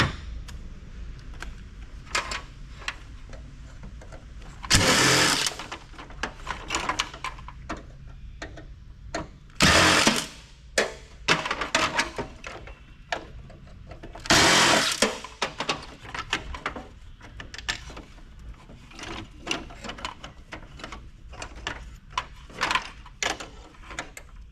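A power driver fitted with an extender backs screws out of a deep cavity while a heavy power supply is being scrapped, in three loud, short whirring bursts spaced about five seconds apart, with small ticks and clicks of handled parts between them.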